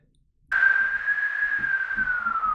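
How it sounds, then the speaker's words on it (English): Whistle synth plugin with glide enabled plays one sustained, clear whistle tone that slides gently downward in pitch, loud and close, with quiet low background sounds underneath. "you can already hear that the notes glide into each other, can also give the whistle a more realistic effect"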